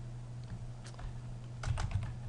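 Keys tapped on a computer keyboard while typing a folder name, a few light clicks and then a quicker burst of keystrokes near the end, fairly faint over a steady low hum.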